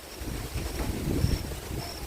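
Steady wind, with no rain, rushes past a nearby tree and buffets against the microphone, a low broadband roar with no voices.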